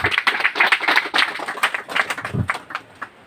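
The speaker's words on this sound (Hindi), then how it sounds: "एक ताली अपने लिए बजाओ।" Small gathering of a Hindi-speaking service organisation clapping for themselves, close individual hand claps in a loose, uneven rhythm rather than a dense roar, continuing throughout.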